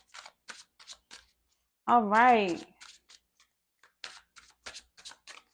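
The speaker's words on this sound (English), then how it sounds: "Let's get a quick shuffle in." Cards are shuffled in short, crisp riffling bursts near the mic, a quick flurry at the start and again at the end, with a brief spoken phrase in the middle.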